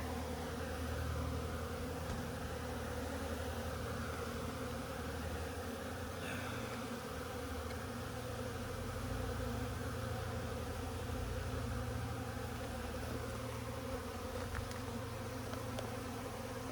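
Honeybees in an open hive at an Alaska apiary, a dense, steady buzzing that fills the whole stretch at close range without letting up, with no talking over it.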